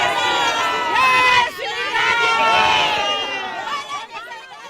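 A large crowd of devotees in Patna shouts slogans outside a hotel. Many loud, overlapping raised voices merge into a dense, continuous roar of chanting and chatter nearby.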